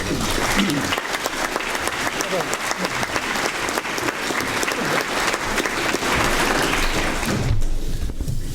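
An audience applauding to welcome a speaker to the podium at an economics club event, a dense, sustained round of clapping that carries evenly and then thins out near the end.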